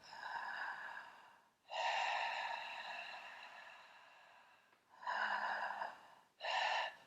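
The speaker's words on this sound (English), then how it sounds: "Breathing in through your mouth." Throat breathing exercise: soft, airy inhalations through the mouth with a gentle rasp at the back of the throat, four breaths of varying length separated by short pauses, close and clear with no talking.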